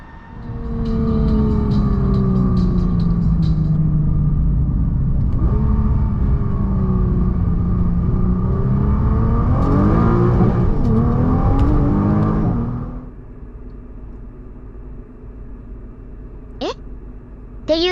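A 2022 Nissan GT-R R35 accelerates hard, its engine note climbing through rising harmonics for about twelve seconds before cutting off, leaving a low idle with a brief whine near the end.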